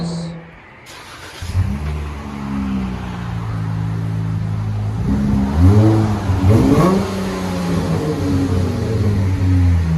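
A Dodge Charger with a 3.6L V6 and its two mufflers removed idles with a deep exhaust tone, then revs hard several times in rising and falling sweeps. It is close and loud, and a voice is faintly present.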